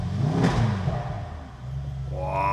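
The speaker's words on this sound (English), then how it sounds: "then we will be starting up this V8 beast" A Mercedes-AMG GT63 S E-Performance with its V8 engine fires up, a rising rev flare followed by a lower rumbling idle, heard from inside the car, with the engine note climbing again at the end.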